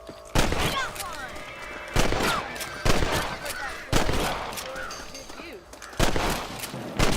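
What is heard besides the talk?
gunshots at rabbits in video game Red Dead Redemption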